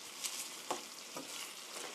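Garlic and onion stir-frying in a pan for stir-fried curry chicken, a steady close sizzle with a few brief scraping stirs, no talk.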